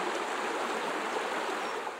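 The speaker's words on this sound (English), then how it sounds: "This is the River Breamish. You can see it just left a big gravel bank there." The River Breamish in Northumberland flows past a big gravel bank, making a soft, steady rushing of water that continues evenly throughout.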